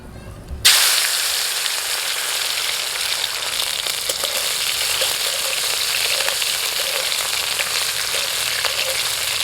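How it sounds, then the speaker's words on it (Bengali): Tomatoes land in hot mustard oil in a kadai with a sudden loud burst of sizzling that settles into a constant close frying hiss with faint stirring, no talk. "তেলটা গরম হয়ে গেছে, টমেটোগুলো দিয়ে দিচ্ছি।"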